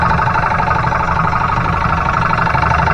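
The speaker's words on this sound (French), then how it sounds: "Donc on a un moteur qui fait tourner une pompe à haute pression" A motor driving a high-pressure pump runs with a loud, continuous whine and hum at an even pitch, with no speech.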